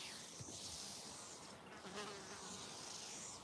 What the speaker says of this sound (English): I can hear a cicada over there